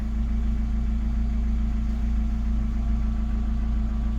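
A 2000s hot hatch engine idles smoothly and steadily at close range, a constant low rumble with an even, regular pulse and no voices.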